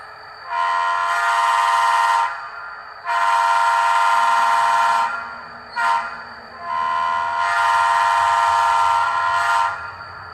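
A model train sound decoder plays a three-chime diesel locomotive horn for a Quincy Railroad SW8, blasting in long sustained tones with a short toot between them, loud and clear with no voices.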